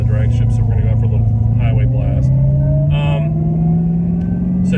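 Dodge Demon accelerating on a highway, its steady engine tone climbing slowly over about five seconds, loud and close, with a person talking over the engine.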